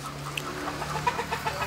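Chickens on an organic fermentation-bedding poultry farm cluck softly and irregularly in the morning, several birds near and a little farther off, with low barn hum beneath.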